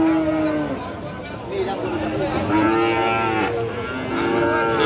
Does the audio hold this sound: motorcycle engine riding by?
no